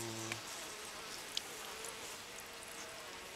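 Honeybees in a hive during a late varroa mite treatment give off a steady, close insect buzz with no talk over it. The hum stays even for several seconds and rises briefly at the start.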